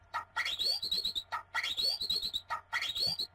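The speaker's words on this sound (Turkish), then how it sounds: "Civciv ötüyor." Repeated bright bird chirps in three short bursts in Euro Truck Simulator 2, each a quick rising trill, fairly close and clear over a faint low hum.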